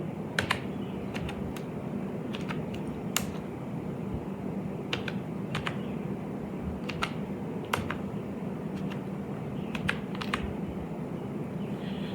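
Computer keyboard keys tapped to enter an Aadhaar card number, with a steady series of close, crisp clicks in short bursts over a constant low room hum.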